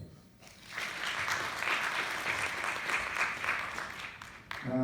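An audience applauds at a film presentation at the Maison de la culture du Japon, a steady round of clapping from a seated crowd that swells in, holds at moderate level, then cuts off as a voice begins at the end.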